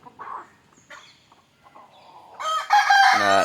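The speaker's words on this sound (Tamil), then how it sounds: "நிறைய கோழி வந்து அடைக்குள் வந்துட்டு ப்ரோ" Native country hens cluck softly at first as they gather in a coop, then a rooster lets out a loud, close crow that ends the clip.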